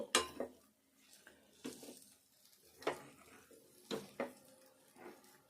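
Peas and potato curry stirred in a pan with a spoon, giving irregular scraping clinks and clatters against the metal with a faint sizzle underneath, close and moderately quiet, no talking.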